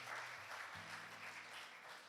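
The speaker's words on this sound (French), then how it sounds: "J'aimerais entendre un applaudissement des frères surtout." Applause from a church congregation at a Sunday celebration service, a steady wash of many hands clapping at an even level throughout, with a low hum underneath.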